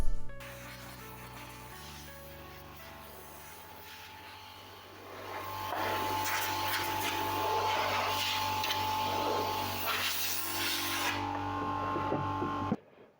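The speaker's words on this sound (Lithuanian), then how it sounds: "Kompresoriumi išvalome visus kampus ir poras nuo dulkių." Air compressor blowing dust from the corners and pores of a wooden piece before oiling, a steady hissing blast that swells louder midway and runs continuously, then cuts off abruptly near the end.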